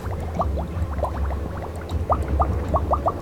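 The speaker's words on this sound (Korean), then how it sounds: "물소리는 기가 막히는구만 아주" Running water in the open-world action game Mad Max: a steady gurgling, bubbling trickle with quick liquid blips over a low continuous rush, fairly close and with no voices.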